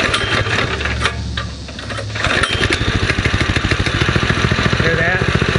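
A springer motorcycle engine idles steadily with an even, rapid chugging pulse, close and loud, after some rougher revving noise at the start.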